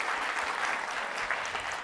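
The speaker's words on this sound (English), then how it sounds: "Can we give her a last round of applause?" An awards ceremony audience applauds a finalist at a young women engineers' event, giving a soft, dense and unbroken spread of clapping heard from some distance.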